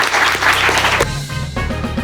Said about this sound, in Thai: ปรบมือให้ความสดใสของพี่มาทอน